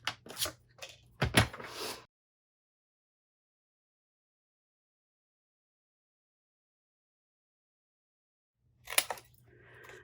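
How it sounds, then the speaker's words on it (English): Paper or card being cut along straight lines with a trimmer blade for sugar cookie boxes: short close scraping slices at the start, a long silence, then another quick cut near the end. "And now we can cut along any of the straight lines."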